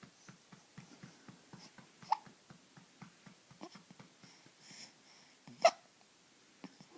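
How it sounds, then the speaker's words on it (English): An 8-week-old baby hiccups in a steady series of soft, close, evenly spaced little bursts, with a few louder sounds scattered among them and no talking. "Oh, and the baby hiccups."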